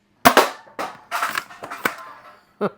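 A Tactical Unicorn foam dart blaster fires a quick handful of close, loud shots, each a sharp pop with a short mechanical clack, spaced unevenly over a few seconds.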